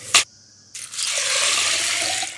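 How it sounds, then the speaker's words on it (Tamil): Water pours steadily into a vessel of sago pearls being soaked, a close, continuous gushing stream that follows a brief knock, with no one talking. "இதுக்கு தண்ணி முங்குற அளவுக்கு விடணும்"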